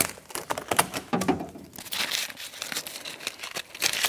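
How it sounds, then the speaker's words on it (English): Tape is peeled and pulled off the window of a 1992-1996 Ford F-150 door, a close crinkling, tearing rasp in short bursts that slows to softer rustling. "so we can undo our tape"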